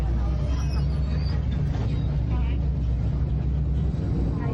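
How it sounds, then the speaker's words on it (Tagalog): A crowded bus rides along the EDSA busway, its engine rumbling low and steady inside the packed cabin. Passengers murmur and shift around in the background. "Gaya ng inaasahan, punuan ng bus."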